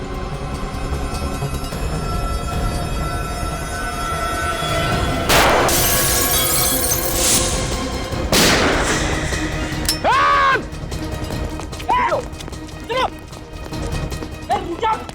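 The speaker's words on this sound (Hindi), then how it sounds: "फायर कहाँ से हो रहा है?" Gunfire in a TV crime-drama scene: a couple of loud, sharp broadband bursts ring out over a constant background of music and noise, followed by voices talking.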